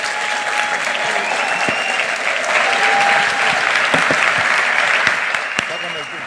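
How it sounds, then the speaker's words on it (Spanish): A large crowd at a pro-life and family congress claps loudly and continuously, swelling slightly in the middle, with a few sharper claps standing out near the end. "una vez más un fuerte aplauso"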